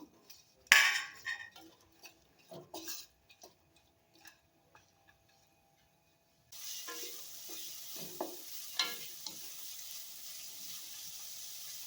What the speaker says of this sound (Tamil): இதில் வெங்காயத்தை சேர்த்து நல்லா வதக்கிக்கலாம்.